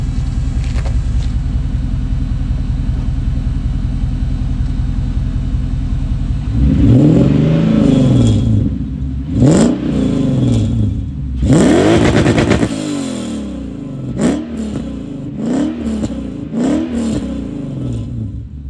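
A Toyota 3UZ V8 swapped into a Volvo 245 with a custom single-exit exhaust: a deep, steady idle burble, then several loud blips of the throttle, each rising and falling back to idle, close by.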